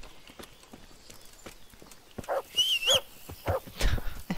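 Horse hooves clip-clop in the medieval game Kingdom Come: Deliverance. Brisk, steady hoof beats play throughout and swell into louder, busier strikes partway through, with a brief whining animal cry mixed in.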